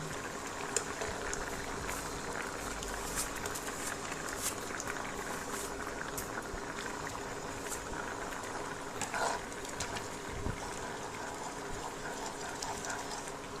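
Shevyo vermicelli goes into boiling water in a pan for a Goan dish, giving a steady rushing, bubbling sizzle that runs evenly throughout at moderate volume with faint clicks.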